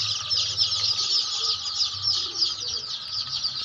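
A crowd of local chicks at a poultry supplier cheeps continuously, a dense high chorus of overlapping peeps close by, with faint low background sounds underneath.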